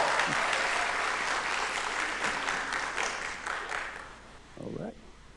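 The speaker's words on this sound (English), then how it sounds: "Round of applause for our graduates." Audience applause for graduates at a Spring 2021 military cadet commissioning ceremony: steady, dense clapping from a large crowd that gradually thins toward the end, with a brief voice rising near the close.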